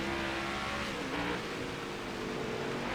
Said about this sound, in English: Turning the car, coming on the throttle.